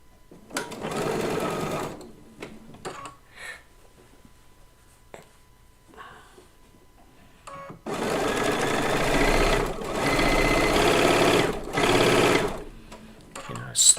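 A sewing machine stitches a quilt seam in fast bursts of rapid mechanical whirring, starting and stopping with short pauses between runs and a longer steady stretch near the end; a person talks briefly between runs.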